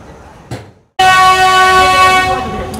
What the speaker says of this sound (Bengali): তো বন্ধুরা, ট্রেন এখন ছেড়ে দিল ঘুষকরা রেলওয়ে স্টেশন।